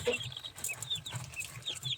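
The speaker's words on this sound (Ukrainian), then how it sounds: "Ця курочка сидить. Під нею аж 15 яєць" A broody hen sitting on a clutch of 15 eggs gives soft, repeated low clucks and grumbling calls, close by and alone without talk.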